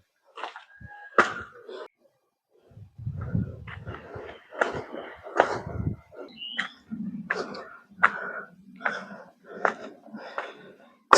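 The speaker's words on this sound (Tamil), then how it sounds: "செம்மையாக மூச்சு வாங்குதுங்க" Heavy, labored breathing from someone climbing the stone steps of Gingee fort in hot sun, with ragged gasps and exhalations in uneven bursts, close to the microphone, mixed with footsteps and scuffs.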